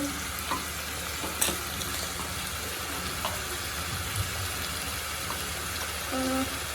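Chicken roast mixture stirred in a hot pan, a constant close sizzle broken by soft scrapes and a few small clacks from the spoon.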